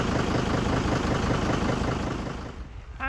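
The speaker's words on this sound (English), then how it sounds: "while the tractor's warming up, because you don't want to take it out cold" Farm tractor engine idling while it warms up on a winter morning before cattle feeding, a steady close, low rumbling drone that holds evenly for about three seconds before easing slightly at the end.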